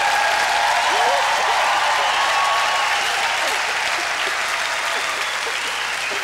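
Sustained applause from an audience filmed at a documentary event, steady dense clapping with a few cheers and whistles throughout, loud and continuous.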